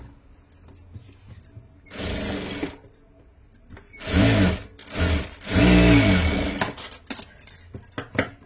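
A sewing machine stitches blouse fabric in several short runs, each a low rumbling whir lasting about a second, separated by quieter pauses and faint handling noise nearby.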